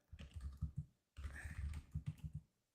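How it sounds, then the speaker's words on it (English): Quick bursts of keystrokes clatter on a computer keyboard, two close runs of typing separated by a short pause, soft and near. "While you're typing,"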